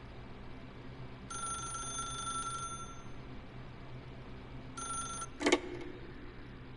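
An old-style telephone bell rings twice in The Stanley Parable, each a bright sustained ring followed by a pause. A sharp clatter follows as the receiver is picked up over a quiet room tone.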